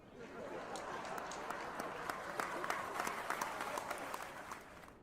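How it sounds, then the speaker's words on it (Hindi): An audience at a college youth talk and Q&A claps steadily for about five seconds, a dense, fairly quiet wash of applause heard from some distance with no voices on top. "ताली बजाओ इनके लिए"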